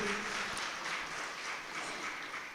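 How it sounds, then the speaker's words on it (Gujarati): Continuous applause from a conference audience, a steady broadband clatter of many hands that holds at an even level throughout, moderately loud, with no speech over it. "તાળીઓ સતત ચાલુ રહેવી જોઈએ"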